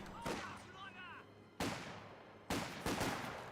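An MG42 machine gun fires a burst in Company of Heroes 2, with loud sharp gunfire onsets amid battle noise while a caster talks over the action.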